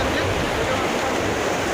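Fast-flowing stream water rushes in a dense, steady roar like breaking waves, loud and close, continuous for a couple of seconds.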